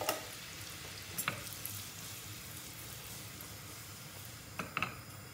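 Dried mint crackling briefly in melted fat in a pan for Turkish yayla soup, a faint steady sizzle with a few short stirring scrapes near the start and end.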